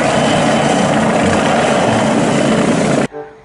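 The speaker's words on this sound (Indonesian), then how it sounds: "Wah, ini helikopter polis, teman-teman." A blue-and-white police helicopter gives off a loud, close, steady whirring rotor drone that runs unbroken for three seconds and then cuts off abruptly.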